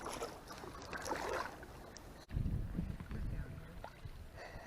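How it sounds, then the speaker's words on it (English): Kayak paddle strokes splash and drip on a shallow lake at Pine Grove Furnace State Park in November, close to the microphone, with light wind noise. "Come paddling around some of our favorite areas."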